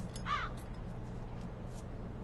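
A raven in the video game Black Mirror 2 gives a single short caw near the start, moderately loud over a low, steady background hum, with faint distant calls after it.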